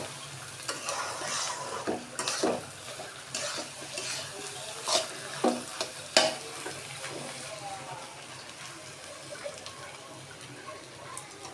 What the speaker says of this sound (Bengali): বারবার নেড়ে চেড়ে দিতে হবে।